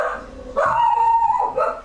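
A dog close by lets out a loud, drawn-out whining bark with a yelping tail, then a shorter yip.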